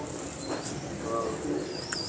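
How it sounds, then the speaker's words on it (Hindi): Soft cooing from a Lal Pari pigeon, a couple of faint, brief murmurs over a steady hiss of background noise, with no talk. "बेसिक ये लाल परी कबूतर"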